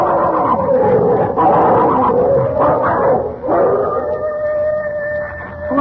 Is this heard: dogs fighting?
yes